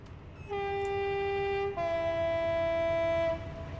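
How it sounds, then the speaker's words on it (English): A Class 58 diesel locomotive on the Great Western Main Line in a train simulator game sounds a loud two-tone horn as it approaches a platform, one sustained note followed by a second lower one, with faint rail rumble underneath. "pretend we're on the platform waiting for the train to come through."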